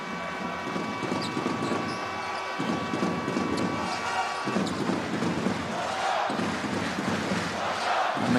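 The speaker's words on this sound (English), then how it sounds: "the crowd are certainly starting to become a factor in this game" Basketball arena crowd at a Jordan national team game in Amman, a loud continuous roar of voices and cheering with rhythmic thumping that swells and dips throughout.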